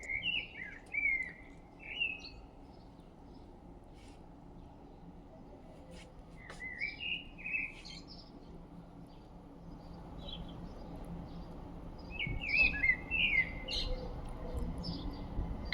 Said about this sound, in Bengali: শুনুন তাহলে পাখির আওয়াজ।